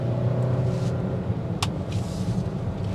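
A 2023 Volvo XC60 Ultimate engine idles with a steady low rumble inside the car during auto start-stop, heard alone at a constant moderate level.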